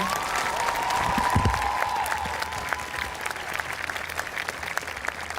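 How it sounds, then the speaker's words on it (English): Outdoor crowd applause at a protest on the Michigan State Capitol grounds, sustained steady clapping with a cheer or whistle early on, fairly even in loudness. "Can we just get one big round of applause for them being brave enough to be up here?"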